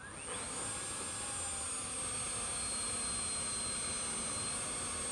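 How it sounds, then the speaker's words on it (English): An electric motor running with oil circulation spins at a steady high whine, a loud continuous drone with faint tonal overtones that holds unchanged throughout. "our motor wants to spin. So we close our scary circuit breaker and give her a little spin."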